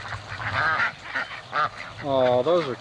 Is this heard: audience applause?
no